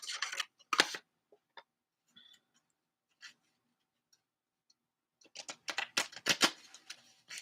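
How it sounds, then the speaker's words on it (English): A deck of inner wisdom cards is shuffled in quiet, crisp riffling bursts: a couple of short flicks at the start, then a denser run of shuffling near the end. "Here, maybe if I do a different kind of shuffling."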